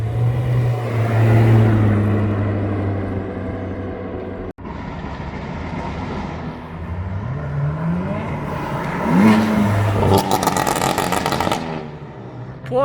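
A Corvette C7 Z06 engine accelerates nearby, its note sweeping up through the gears with a brief gap for a shift, then rising and fading into a harsh roar.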